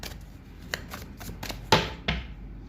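Tarot cards are shuffled and handled close by: a series of short papery riffles and flicks, building to two sharper, louder snaps near the end, with no voices.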